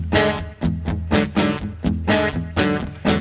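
A full band mix of electric and acoustic guitars, bass and drums plays a steady strummed groove, the chords pulsing in regular bursts over a low bass line, dense and moderately loud.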